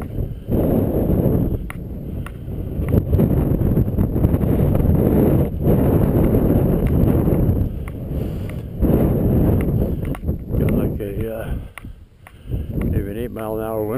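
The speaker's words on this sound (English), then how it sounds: "Maybe an 8 mile an hour wind blowing from the north." Heavy wind of about 8 mph from the north buffets the microphone in loud, gusty roaring bursts that rise and fall, with someone talking over it on a snowy 30-degree December day.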